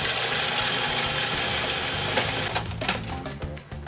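Blender grinding lamb's quarter, pine nuts and Parmigiano cheese into a fine pesto paste: a steady, dense motor whir with gritty churning, loosening and stuttering toward the end.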